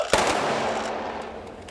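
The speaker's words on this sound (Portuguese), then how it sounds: "No cemitério, 3 salvas de tiros." A sharp rifle volley of a funeral gun salute cracks right at the start in a cemetery, followed by a long echoing roll that fades away outdoors.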